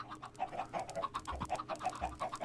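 Chickens in the Minecraft video game give short, repeated clucks in a quick, steady rhythm, fairly faint and heard alone.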